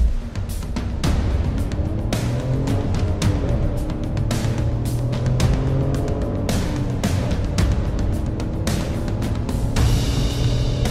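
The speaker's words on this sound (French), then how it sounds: "Nous sommes à l'endroit où je fais mes habituels tests d'accélération de 0 à 80 km/h." A Dacia Sandero SCe65 pulls away from a standstill and accelerates hard to 80 km/h, its engine note climbing steadily through the gears, with close, constant road and cabin rumble and scattered knocks and clicks throughout.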